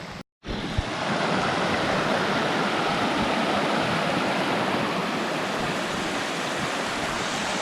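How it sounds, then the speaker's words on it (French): A waterfall on a Mont Lafayette hiking trail roars in a steady, dense rush of falling water, loud and close, continuing without pause for several seconds after a brief silent gap at the start. "On est de retour aux belles chutes"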